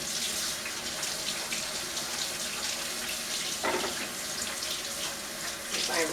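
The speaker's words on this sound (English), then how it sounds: "Now I'm going to wash my hands very quickly" Hands washed quickly under a running kitchen tap: a steady, loud splash and gush of flowing water from start to finish, with slight changes where the hands move through the stream.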